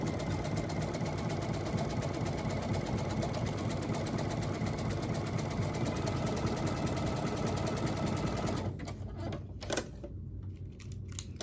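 A domestic sewing machine hums loudly and continuously while sewing shoulder seams with a narrow zigzag stitch, then stops near the end, leaving a few scattered handling clicks.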